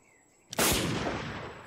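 A sudden loud outdoor explosion bursts in after a brief silence, then rolls and rumbles away as a long decaying roar.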